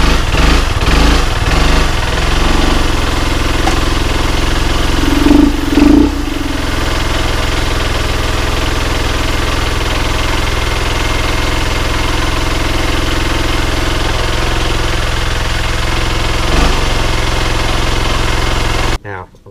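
A serviced Derbi Terra 125 motorcycle engine idles steadily and loudly up close with a few brief blips early on, the bike previously prone to stalling after starting.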